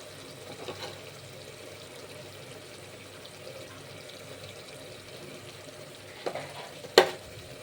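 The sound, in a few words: ginger garlic paste frying in pan for drumstick tomato curry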